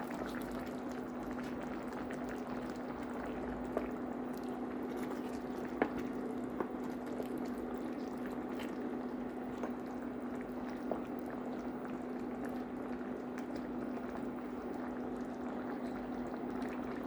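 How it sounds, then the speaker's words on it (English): Ground meat and vegetables simmer at a steady boil in a covered pan, a soft continuous bubbling with faint lid rattles and occasional small pops, close and constant throughout. "Cover and let it boil for another 5 minutes."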